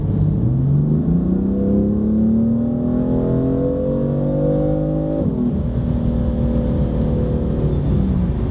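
BMW M4 exhaust with a valved muffler switched into M1 mode, a steady close engine drone that climbs in pitch as revs rise, then drops and settles into a deeper hum, with no talking.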